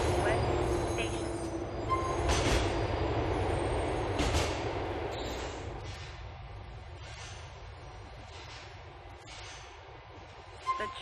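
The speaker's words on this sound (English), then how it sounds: "The train is approaching 14th West Station." A train in Grand Theft Auto IV rumbles steadily along with broadband wheel and track noise, faint squeals and clanks, gradually easing off toward the end as it approaches a station.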